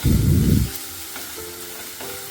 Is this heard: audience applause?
no